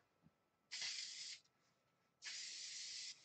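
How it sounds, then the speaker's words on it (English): Spray adhesive from a hardware-store aerosol can gives two long, close hissing bursts, each lasting about a second, separated by a short pause, with no talking. "We finna use his spray adhesive."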